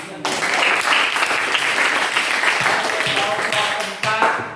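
A classroom of students bursts into applause, loud, close clapping from many hands, with a brief dip and renewed burst near the end and voices mixed in.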